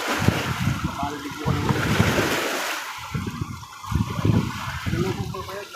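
Heavy surf crashing and rushing close by, with steady wind roaring over the microphone and a voice faintly underneath.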